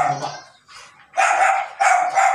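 A dog in training barks several times up close, with short sharp yaps spaced by brief pauses in an otherwise quiet space.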